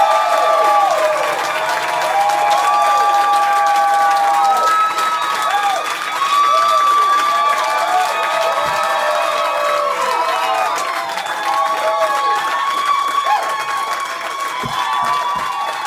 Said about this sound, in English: please stomp your feet, clap your hands, shout and holler, and welcome to the stage